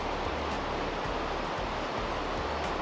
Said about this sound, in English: You can literally hear that gushing sound of water.